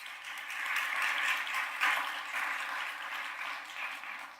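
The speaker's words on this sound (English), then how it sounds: "Let's give them a round of applause" Audience applause for standing school board members at a county address, a steady, fairly distant wash of clapping that holds evenly throughout with no voices over it.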